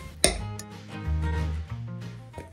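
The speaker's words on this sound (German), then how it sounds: "Alle Zutaten sind jetzt in dem Teig und jetzt wird er einmal vermengt." Raw potato rösti batter mixed with parsley and nutmeg in a bowl, giving a sharp clink of utensil on the dish followed by soft, wet stirring and a few more light knocks, close and unaccompanied by talk.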